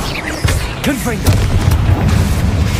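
Confringo fire-blast spell cast in Hogwarts Legacy, a magical action game, going off as a burst of booming impacts with a low crackling rumble trailing behind, loud and close, with a voice calling out over the effects.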